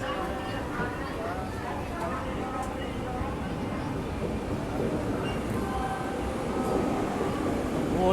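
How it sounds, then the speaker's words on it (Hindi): A Vande Bharat express train pulls into an Indian station, a steady rumble of rolling wheels and carriages that swells gradually, with people talking nearby over it. "वो देखो भाई साहब, वंदे भारत आ रही है, एंटर हो रही है वंदे भारत।"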